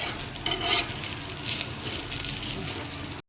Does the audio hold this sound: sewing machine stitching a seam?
no